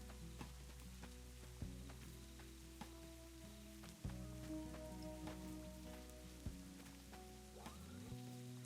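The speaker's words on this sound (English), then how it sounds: "It's literally raining." Rain in the video game Minecraft, a steady hissing patter of drops with occasional clicks, heard alone under a low constant tone.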